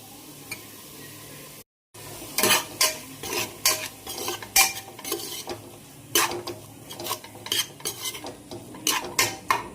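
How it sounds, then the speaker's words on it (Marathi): Finely chopped tomato and spice paste sauté in a pan, with repeated sharp spoon scrapes and clinks against the metal over a soft sizzle, close and fairly loud. "आता जो आपण बारीक चिरलेला टोमॅटो आहे ना, तो पण लगेच परतून घेऊया याच्यामध्ये."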